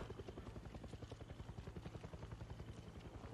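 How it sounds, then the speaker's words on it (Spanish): A helicopter in the video game Far Cry 6 thrums with a steady rhythmic rotor chop, faint and distant, continuing without interruption and with no talk over it. "Suena helicóptero, pero no lo veo."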